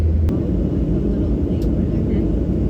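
Steady, loud roar of a Southwest Airlines jet cabin in flight, a broad constant rumble and hiss with no clear breaks.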